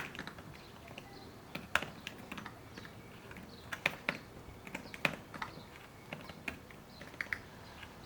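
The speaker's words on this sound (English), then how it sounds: "This one is the new keyboard." Fingers type on an Apple 12.9-inch iPad Smart Keyboard, producing soft, irregular key taps with a few sharper clicks, close and fairly quiet in a still room.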